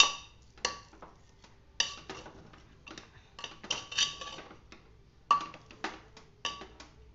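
Jaggery being stirred into sweet coconut rice in a pressure-cooker pot, heard as sparse, quiet metallic clinks and scrapes of a spoon against the pot, irregular and isolated taps with near-silence between.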